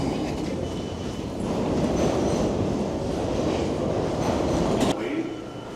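An old New York City subway train rumbles loudly through the station, a steady heavy roar of wheels and cars with a brief screech near the end, close and continuous.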